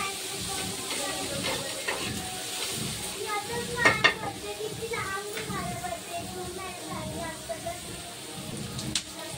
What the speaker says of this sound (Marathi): यातच आपण 4 मिरच्या घालून घेऊया आणि व्यवस्थित भाजून घेऊया.